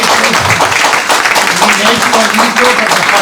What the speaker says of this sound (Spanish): us demano un fort aplaudiment per la Rosa